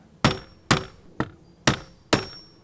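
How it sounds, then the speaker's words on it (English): Five sharp metallic taps with a hammer on a nail set, punching hole marks for a storm door handle, land at an even pace about half a second apart, each a crisp close strike that decays quickly. "I have a nail set, and I'm just going to go right in the center and give it a little tap."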